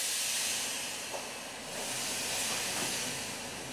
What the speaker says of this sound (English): Hear that gas leaking from here? That's the OPV.